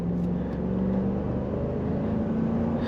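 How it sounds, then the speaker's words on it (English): A 2022 Jeep Wagoneer Series III with a 5.7L V8 and AWD hums steadily and quietly from inside the cabin during a test drive, a low continuous engine drone with no talking. "hear the V8, which is nice, but it's quiet"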